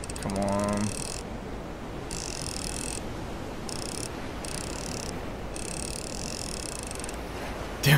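A fishing reel winds in a scary video game, a quick ratcheting clicking followed by bursts of a rough, whirring mechanical sound over a low rumble, with a brief louder knock at the end.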